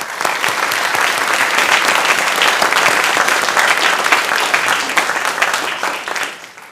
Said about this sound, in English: Let's have a round of applause for their accomplishments.